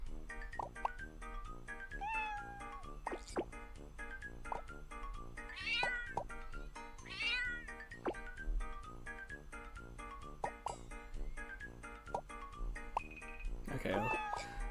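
Repeated cat meows pop up at irregular intervals in the mobile puzzle game Block Cat Jam, short mews layered over a looping, plinking background tune, with a longer, louder meow near the end.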